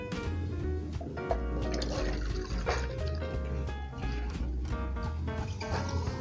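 Well water pours steadily into a container, a continuous liquid splash and trickle with dripping, close and fairly loud with no talk over it.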